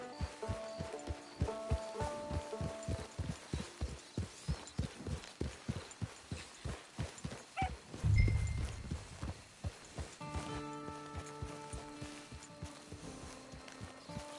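Steady, rhythmic clip-clop of horse hooves walking at a moderate pace in a video game, close and clear, with a soft thump partway through and a faint musical backdrop.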